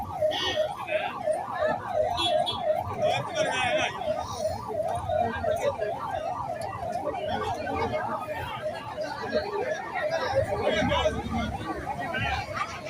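An ambulance siren wails in a steady rising and falling pattern as it passes slowly through a street election campaign crowd, sounding moderately loud over constant crowd chatter and babble.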